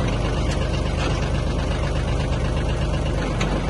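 A Kubota KT20 Japanese mini tractor engine runs at a steady idle, a continuous close mechanical chug with a dense, even rumble and no pauses.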